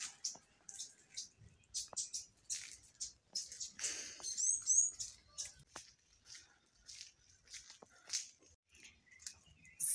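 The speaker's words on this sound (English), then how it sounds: "Hearing the birds." Bright, high-pitched bird chirps repeat steadily across an urban garden in Kampala, Uganda, close and lively, with a faint quiet voice now and then.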